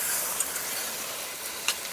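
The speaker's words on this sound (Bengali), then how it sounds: "সামান্য জল আমি চতুর্দিকে একটু দিয়ে নিচ্ছি বেশি দেবো না সামান্য দিচ্ছি" Water sprinkled around a hot pan for steaming a banana-leaf kochur loti dish gives a steady faint sizzling hiss with two brief sharper spits.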